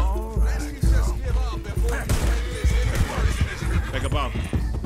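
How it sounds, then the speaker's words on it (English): A horse in Red Dead Redemption 2 neighs and whinnies loudly, with hoof clip-clops and game noise, while people talk over it. "About to kill my horse. Come here, horse."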